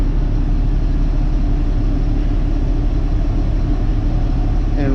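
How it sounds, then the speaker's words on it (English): Air from the cab AC of a 2005 Freightliner M2 truck blows on its highest setting, a steady, loud whooshing roar with a low rumble underneath, unbroken throughout. "we'll put the AC to the highest we can."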